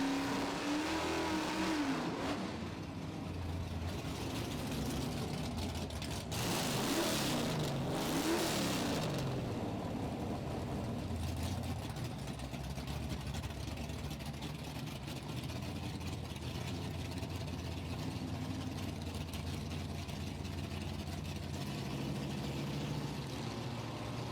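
A 1966 Pontiac muscle car runs at a drag strip. Engines rumble and rev loudly, with a rising roar of acceleration early on, then settle into a steady engine drone with crowd and track noise in the background.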